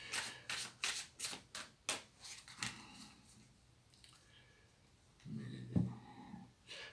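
Tarot cards are shuffled by hand in quick, crisp riffling bursts, about nine evenly spaced close riffles, followed by quieter rustling and a soft thump as a card is drawn.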